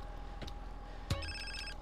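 Cell phone ringing in GTA San Andreas, a repeating electronic ring tone starting about midway through, steady and moderately loud over a low game background hum, with a brief thud just before it.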